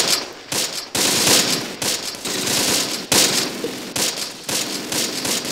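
Gunfire in the World War II tactics video game Close Combat: dense, continuous bursts of machine-gun and rifle fire with short gaps, loud and alone.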